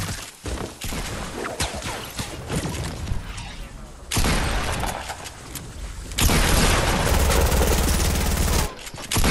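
Sting bombs in a Fortnite 2v2 playground match go off in loud, dense bursts, with rapid crackling blasts and heavy booms that stack up over several seconds and leave only brief gaps.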